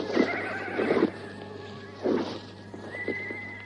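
Horses whinny and neigh in several close, loud bursts in a radio-drama scene of riders dismounting near an enemy camp, with faint hoof sounds underneath and a steady low hum throughout.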